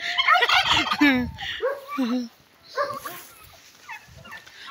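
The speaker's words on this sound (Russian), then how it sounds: "Вот мои красавцы, вот мои два индюка." Turkeys gobble loudly in rapid, warbling bursts close by, with a second fainter gobble answering afterward.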